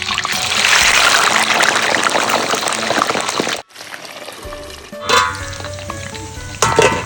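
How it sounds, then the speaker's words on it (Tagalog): Chicken feet fry in hot oil, a loud dense sizzle that cuts out abruptly, then resumes more softly with bubbling crackle. "sakto naman mainit na yung mantika, start na tayo magprito."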